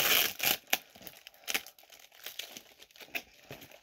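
Tape being ripped off a box in a series of sharp crackling tears and crinkles, close and irregular, with brief pauses between pulls.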